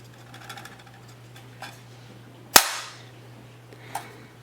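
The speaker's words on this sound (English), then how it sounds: "The only way to actually get it to get undepressed is if you either drop it or slam it against the side." A single sharp metallic slam of a KCI USA rifle magazine struck against a surface, loud and close, with a brief ringing decay, preceded and followed by a few faint handling clicks over a steady low hum.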